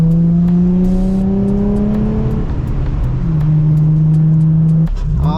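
Nissan 350Z engine pulling hard and climbing in pitch, then a quick drop as it shifts into second gear and the revs build again, loud and close from inside the car with no talk.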